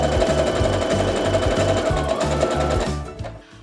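Sewing machine stitching a quilt block on the bias, a close, steady rapid thumping of the needle that runs evenly and then winds down and stops near the end.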